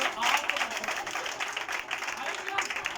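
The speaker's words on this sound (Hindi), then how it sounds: "उनके लिए भरपूर तालियां बजाएं।" A church congregation claps in loose, steady applause lasting a few seconds, a dense patter of many hands filling the room at moderate loudness.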